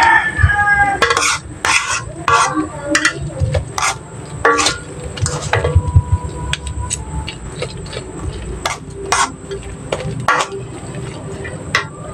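Flour being stirred into a kangkong omelette mixture, with irregular clinks and scrapes of a spoon in a bowl over a noisy outdoor background where a rooster crows and chickens cluck.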